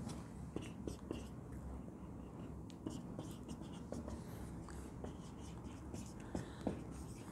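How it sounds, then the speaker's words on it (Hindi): Soft scratching of writing on a board or page during a physics lecture, faint and intermittent over a steady low room hum, with scattered light taps and strokes and no clear speech. "पहले इसके ट्रांसलेशन मोशन की इक्वेशन लिखते हैं"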